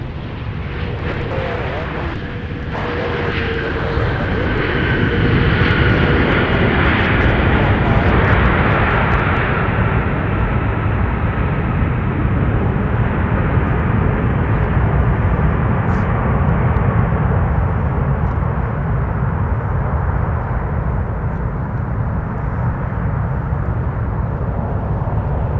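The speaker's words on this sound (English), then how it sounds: "Delta 9 touching down with the Team USA A330-900 Neo" A Delta Airbus A330-900neo in Team USA livery lands at MSP airport with a broad, loud engine roar that swells early and then holds steady, rumbling on without letting up, with faint talk beneath.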